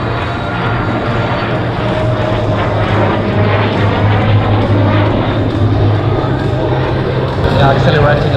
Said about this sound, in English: 4 jets are flying very close to each other